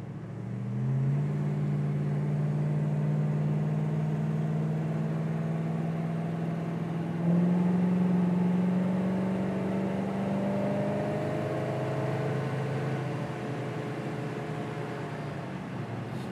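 A 1969 Plymouth Road Runner with a 383 engine drones steadily while cruising on the road, its engine tone rising and shifting under acceleration with constant road and wind noise and no talking.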